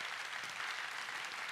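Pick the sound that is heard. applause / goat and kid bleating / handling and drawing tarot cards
applause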